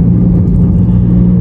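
A Toyota Vios Limo taxi sedan being sold in Surabaya runs with a loud, close, steady low engine rumble and hum, even throughout with no revving and no speech.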